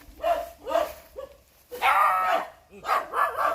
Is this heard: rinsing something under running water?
no